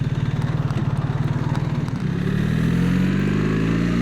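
A BMW R1300 RT motorcycle engine pulses in a steady, close, loud rhythm as it changes down through the gears, then settles into a smoother, deeper drone with no voices present.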